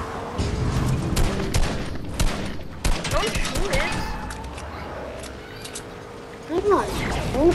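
Gunfire in a video game, with repeated shots and bursts crackling over ongoing talk, some loud and near, others fainter, alongside mechanical clatter.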